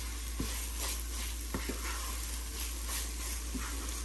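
Beetroot burfi mixture is stirred in ghee in a pan under a steady sizzle, with scattered soft scrapes and knocks from the spoon.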